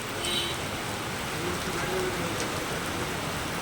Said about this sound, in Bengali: তার হঠাৎ বৃষ্টি চলে এসেছে